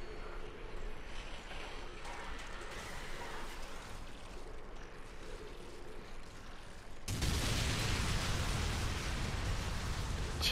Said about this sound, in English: Jesus Christ, that explosion.